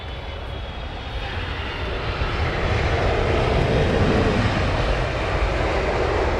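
A Boeing 777 airliner arriving on runway 27R at Heathrow, a broad jet roar swelling gradually louder over several seconds as it approaches, then holding steady, with no voices.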